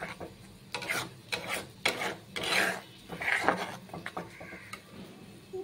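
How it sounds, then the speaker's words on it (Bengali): Spice masala with chilli powder being stirred and fried in a pan, heard as repeated scraping and rasping strokes of a spatula against the pan, steady and close with no voices. "দিয়ে আবার নাড়তে থাকবো। ভালো করে কষিয়ে নিচ্ছি।"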